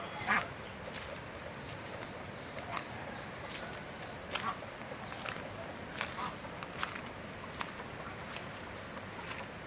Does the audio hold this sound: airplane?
no